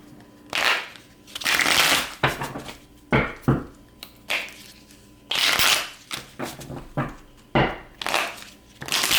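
A deck of playing cards is shuffled over and over up close, with a series of crisp riffling bursts and sharp snaps separated by short pauses.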